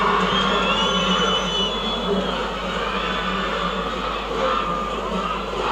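A large crowd at an under-20 rugby sevens match between Nepal and Hong Kong roars and cheers continuously after a try, with a commentator's voice faintly woven into the steady stadium noise.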